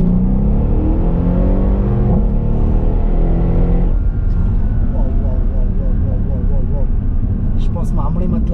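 A Mercedes SL63 AMG engine roars and revs hard as the car surges forward on kick-down in second gear in Sport Plus mode, loud and close, with a voice talking over it.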